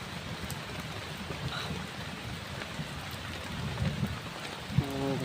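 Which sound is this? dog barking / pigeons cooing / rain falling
rain falling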